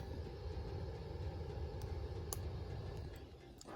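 A GPD Win Max handheld laptop's cooling fan runs while Warframe boots at 8 watts, giving a steady, broadband whir close to the mic, with faint clicks over the top.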